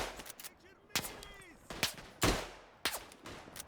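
A Maxim machine gun in the World War I shooter Tannenberg sounds off in a battlefield mix: several sharp, separate gunshot cracks at uneven intervals, some near and loud, with quieter shots and faint voices between them.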